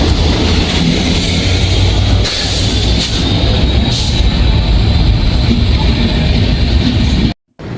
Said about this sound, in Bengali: পঞ্চগড় হতে ছেড়ে আসা ঢাকাগামী দ্রুতজন এক্সপ্রেস থ্রোপার যাচ্ছে